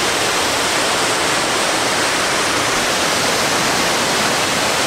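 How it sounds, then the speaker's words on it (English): A waterfall at the end of a steep jungle trek, a dense continuous roar of falling water filling the whole clip at constant loudness, close by and with no other sounds. "That's the waterfall."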